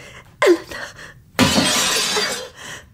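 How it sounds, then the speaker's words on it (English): A silvered glass mirror is smashed with one blow, giving a sharp crack followed by a longer, loud shatter of fragments tumbling to the floor, with no voices. "With one blow, I smashed it. Fragments of silvered glass tumbled to the floor."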